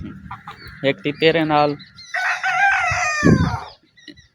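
Chickens cluck and a rooster crows loudly and close by at a poultry farm, the harmonic crow stretching across the middle of the clip, with a voice speaking briefly among the birds.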